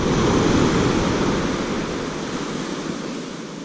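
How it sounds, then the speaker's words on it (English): Ocean surf washing onto a beach during sand crab fishing for calico surf perch, a steady loud broadband roar of breaking white water that eases slightly as it recedes, with no voices. "watch as this white water recedes back there into the surf"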